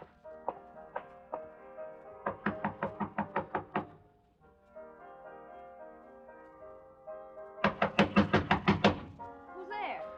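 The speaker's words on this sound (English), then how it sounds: "I walked up to her room and knocked on the door." Knocking on a wooden door in short rapid bursts of several raps each, loud and close, with a dramatized radio-play scene and music underneath.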